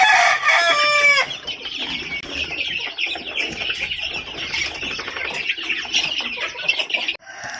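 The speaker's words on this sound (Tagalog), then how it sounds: "Ayan mga ka-farmers, yan, tapos na naman silang kumain." Chickens in a brooding pen cluck busily and continuously, with a loud crow-like call at the start followed by dense, overlapping chirps and clucks close by.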